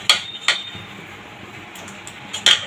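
Green mangoes for a pickle go into a pot of heated water, with a few sharp, close metallic clinks separated by quiet gaps.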